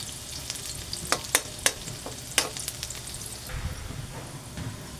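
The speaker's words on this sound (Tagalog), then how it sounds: "Gisa muna tayo ng bawang." Garlic sautés in a hot pan with a steady sizzle, broken by a few sharp scraping clanks as it is stirred, heard close and without talk.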